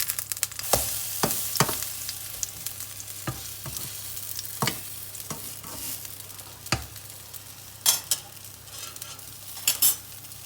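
Courgette and feta fritters frying in a pan, a bright continuous sizzle broken by repeated sharp spatula clinks and scrapes as they are turned, close with no voices.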